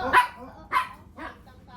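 A friend's dog barks three times in the predawn dark, the sharp barks spaced about half a second apart and fairly close, with quiet room tone between them.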